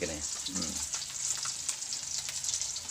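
Food sizzles and crackles steadily in hot oil, a continuous bright frying hiss with scattered pops and no talking.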